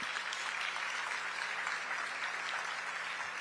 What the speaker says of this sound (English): Would you stand and clap your hands and sit back down?